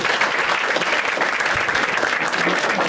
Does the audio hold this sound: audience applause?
yes